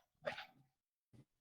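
A dog at home gives one short, faint bark, then a soft huff a moment later, heard at a distance with no talking.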